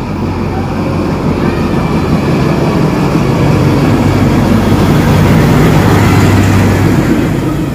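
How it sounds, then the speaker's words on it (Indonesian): A steady, loud diesel locomotive engine rumble drones continuously, low and throbbing, with a constant mechanical hum throughout. "Kereta api berenjin diesel."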